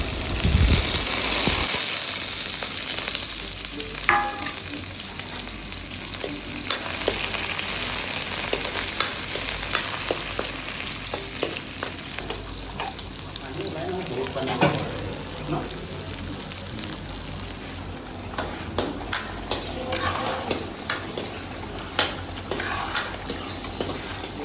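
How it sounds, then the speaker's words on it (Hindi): Tadka (spice tempering) for dal sizzles and crackles in a hot pan with occasional stirring and scraping sounds, continuous throughout, ending with a few sharp pops and taps. "और इधर बन रहा है दाल के लिए तड़का"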